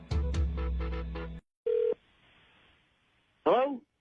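A telephone call is placed: a rapid run of DTMF dialing beeps, a single steady tone, a pause, then a brief warbling electronic burst, all clear and close with no talking.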